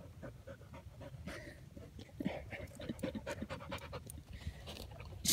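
A dog pants close by in quick, steady breaths through most of the stretch, with a low background rumble beneath and a few brief higher sounds mixed in.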